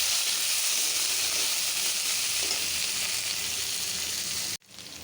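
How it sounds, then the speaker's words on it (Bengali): Onion, green chilli and garlic drop into hot oil, setting off a loud, dense, steady hiss of frying that fills the space close by, then cuts off abruptly near the end before resuming. "গরম হয়ে গেছে, এখন সব দিয়ে দেব, পেঁয়াজ, কাঁচামরিচ, রসুন।"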